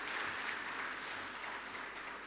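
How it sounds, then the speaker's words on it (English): Applause from an audience at an African Union event on women's financial and economic inclusion, a steady, even clapping that sounds somewhat distant and fills the whole short stretch with no voices on top. "Please give him a big round of applause."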